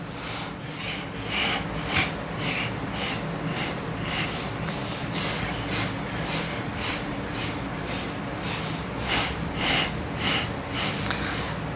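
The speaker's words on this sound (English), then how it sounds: "Eight inhales in and 8 sniffs out." Rhythmic sniffing breaths during a breathing exercise, a steady run of short, sharp nasal sniffs repeating about every half second, close and fairly loud with a soft rubbing texture.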